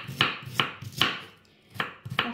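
Quick knife chops against a cutting board, finely chopping vegetables, five sharp strikes in a loose rhythm with a short pause in the middle, close and alone.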